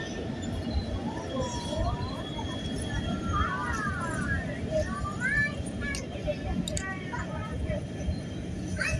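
A train with multiple carriages rolls past steadily, with a continuous rumble and some high wheel squeals, while people talk over it.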